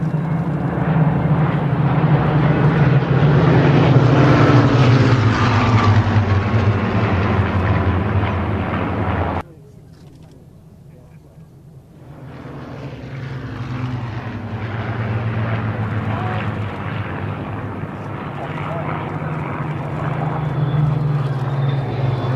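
A warbird propeller airplane flies past at an air show, a loud droning roar that fades to a quiet lull and then builds again as it returns.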